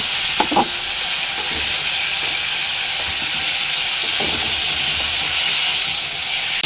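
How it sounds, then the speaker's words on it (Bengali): Carrot pieces frying in hot oil for a vegetable khichuri give a steady, close, loud sizzle with a few faint clicks of stirring. No one speaks. "শেষে গাজর কাটা ভেজে নেব"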